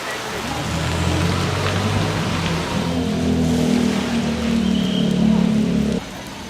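Heavy rain pours steadily in Bangkok, Thailand, a loud, constant wash of sound with a low engine hum rising under it partway through, then it drops in level near the end.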